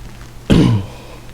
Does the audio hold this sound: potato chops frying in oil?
no